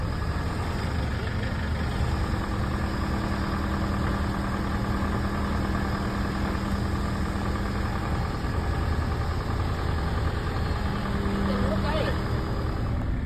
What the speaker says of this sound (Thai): เขากำลังเอารถไถออกนะ